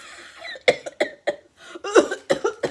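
A voice imitating a storybook bear's cough: a run of short, hoarse, rhythmic coughs close up, with a throatier hack near the middle.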